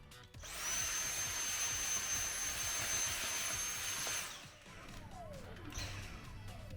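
A Dyson cordless vacuum powered by a DeWalt battery through an adapter spins up to a loud, high steady whine for a few seconds, then powers down and winds off.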